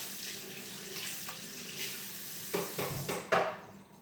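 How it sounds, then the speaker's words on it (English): A running kitchen tap pours a steady stream while something is rinsed under it. The splashing shifts and surges near the end before the flow quickly fades out. "Just gonna rinse it off."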